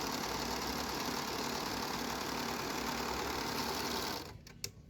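A Sunspecial SS320 overlock sewing machine stitches at a fast, steady whir, close and continuous, then stops abruptly near the end, leaving a couple of small clicks.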